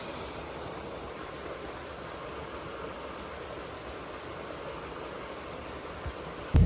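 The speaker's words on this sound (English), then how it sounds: "the waterfall" A waterfall at a hidden creek pours steadily, a dense, even rush of water filling the whole stretch without pause, close and constant, with a brief knock at the very end.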